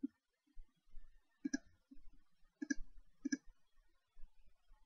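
Mouse clicks ticking IIS feature checkboxes on in Windows 8.1: three sharp, close clicks stand out among softer, quicker taps, spaced irregularly in a quiet room.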